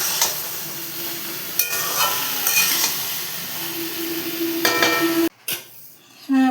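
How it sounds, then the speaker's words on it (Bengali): Snake gourd frying in a pan with onion, black cumin and dried chilli: steady close sizzling with occasional sharp clinks of a utensil stirring against the pan, which cuts out briefly near the end. "পেঁয়াজ ফোড়ন, কালো জিরে, শুকনো লঙ্কা ফোড়ন দিয়ে চিচিঙ্গাটা ভাজা করছি।"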